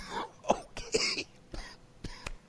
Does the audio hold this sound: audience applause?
no